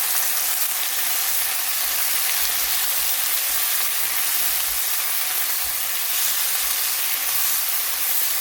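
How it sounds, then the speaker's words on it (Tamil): Tomatoes and coriander sauté in a pan for a soya paneer curry, producing an even, continuous frying sizzle close by with faint stirring underneath and no voices. "இந்த தக்காளி பழம் இந்த கொத்தமல்லியில் எல்லாத்தையும் போட்டு நல்லா வதங்க விடுவோம்"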